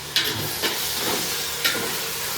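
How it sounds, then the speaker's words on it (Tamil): Ginger and garlic sautéing in a pan for mutton biryani, a close, continuous sizzle with a few sharp hissing bursts as the mixture is stirred, no talking. "சரி, நல்லா அப்படியே வதங்கிட்டே இருக்குது."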